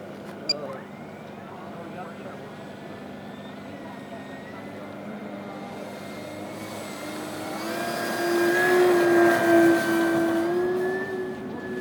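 A Ziroli B-25 Mitchell twin-engine model airplane takes off on its maiden flight, a steady engine drone moving right to left that swells louder toward the end, with people talking in the background.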